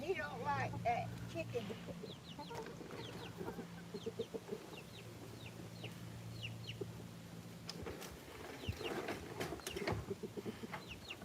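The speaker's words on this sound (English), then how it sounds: "So I see the rooster's having a fit about the corn being out on the ground." A rooster fusses over corn scattered on the ground, giving repeated short clucks and squawks at moderate distance, with people talking at intervals throughout.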